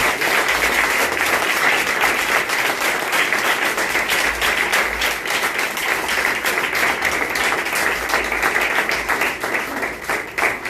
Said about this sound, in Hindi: आइए परमेश्वर के नाम से पहले जोर से बड़ी तालियां